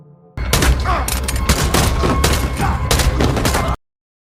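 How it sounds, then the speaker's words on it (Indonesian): A rapid burst of pistol gunshots rings out in dense succession for about three seconds, loud and close, then cuts off abruptly. "dokter yang sebelumnya memeriksa hasil tes secara tiba-tiba mencuri pistol dan menembak semua orang di ruangan"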